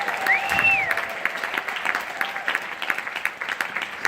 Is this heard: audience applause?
yes